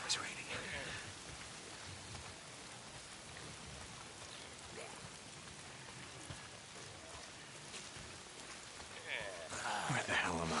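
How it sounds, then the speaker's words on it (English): Steady rain patters and hisses on surfaces outdoors, with a louder burst near the end. "If it's not the freaks, it's the goddamn rain."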